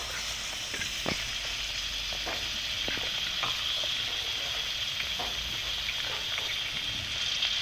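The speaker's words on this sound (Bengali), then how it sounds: "তেল গরম হয়ে গেছে, তেলের মধ্যে দিয়ে দেবো নুন হলুদ মাখানো কুমড়োগুলো দিয়ে দিয়েছি।" Pumpkin pieces coated in salt and turmeric fry in hot oil, giving a steady, close sizzle with scattered crackles and a few utensil clicks, with no talking.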